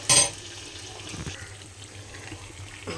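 Water is poured into a pan of cooking curry with potatoes. A sharp clatter comes first, then a soft, steady trickle and splash runs at close range for a few seconds, with no talk.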